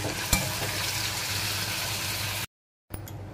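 Paneer fries in a pan with a steady close sizzle and a sharp knock near the start, then a brief silent cut before the frying resumes.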